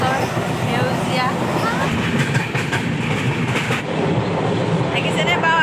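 A passenger train running after leaving Dibrugarh station, past green tea gardens, with a steady loud rumble and a continuous rhythmic clickety-clack of wheels over rail joints. Faint voices can be heard underneath.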